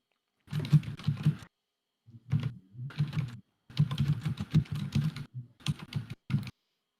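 A computer keyboard sits very close to the microphone and is typed on in several quick clattering bursts separated by short pauses.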